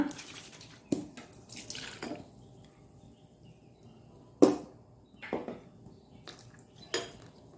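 Water used to rinse a mixer jar is poured into a raw mango chutney paste in a quiet kitchen, giving soft intermittent splashes and sharp clinks of the vessel, with no talking.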